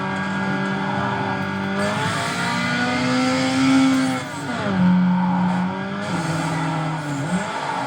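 Race car engine in Need for Speed Underground with nitrous boost, revving loud and close with rising and falling pitch sweeps across the whole span, a brief dip near the middle before it surges again.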